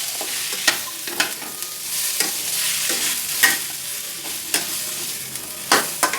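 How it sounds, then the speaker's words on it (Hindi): Chopped whole onions frying in a spiced masala, with a steady, loud sizzle and occasional stirring scrapes and clinks of a spoon against the pan. "अब जो हमारा ये साबुत बड़े बड़े प्याज हमने काट करके रखे थे इसको डाल देंगे। इसको हल्का सा भून लेंगे हम।"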